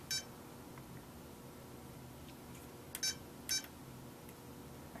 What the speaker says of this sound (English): we're gonna choose which harmony you like the best for your alarm sound